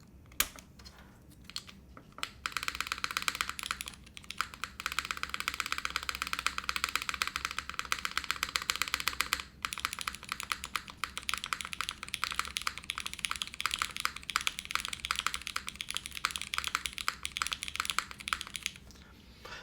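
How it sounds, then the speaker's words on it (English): Dense, steady clatter of keystrokes on a Monokei Kei v2 mechanical keyboard with unlubed switches and a long-pull spacebar, continuous rapid typing close up with no talk. "Let's see what the long pull spacebar sounds like."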